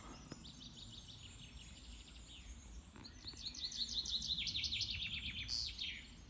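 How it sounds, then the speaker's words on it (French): Small woodland birds singing at dawn after a night camping in the forest, a string of quick bright trills and chirps that grow busier and louder toward the end over a quiet background. "Et maintenant, c'est les oiseaux."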